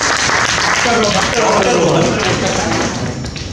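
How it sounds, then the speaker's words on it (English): Loud audience applause at a college event, a dense burst of close clapping from a crowd that stays strong, then tapers off toward the end. "round of applause to Roman."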